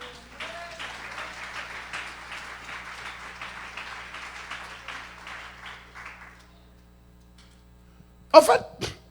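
A church congregation breaks into applause, a dense, steady patter of many hands clapping for several seconds before fading out, followed later by a brief sharp clatter.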